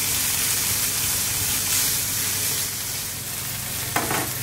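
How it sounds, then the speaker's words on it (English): Onion, chili and bacon stir-frying in a pan for prawn and egg fried rice, a steady close sizzle and crackle throughout with a short scrape or clatter near the end. "I'm going to start by stir-frying those for just a few minutes until the onion starts to get soft"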